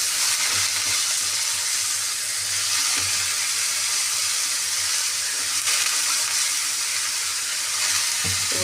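Small chopped brinjal pieces fry in oil in a pan for a Telugu brinjal curry, giving a steady, close, broadband sizzle throughout with a few faint scraping stirs and no talk.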